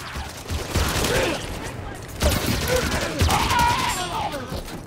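Halo 5 gunfire cracks in repeated loud bursts with mechanical clatter, dense and close throughout the short stretch, with a voice faintly underneath.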